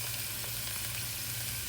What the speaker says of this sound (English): Stir our noodles right here.